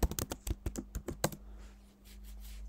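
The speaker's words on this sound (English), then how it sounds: "Type your password." Password being typed on a Mac keyboard: about nine quick, crisp keystrokes in close succession, then the tapping stops and only a faint steady hum remains.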